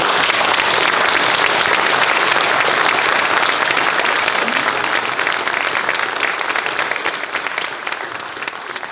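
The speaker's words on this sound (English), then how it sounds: "So can I please have another round of applause for this?" A loud, dense round of applause from an audience at a project showcase. The clapping is sustained and even, then thins and fades a little in the final seconds.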